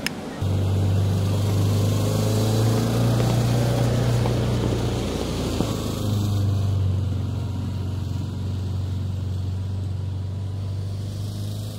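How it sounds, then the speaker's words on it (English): Outboard engine of an inflatable rescue boat on a surf club beach idling steadily, a loud sustained low drone with a slight dip in pitch midway, running on alone without talk. "running the engine so you know it starts straight off"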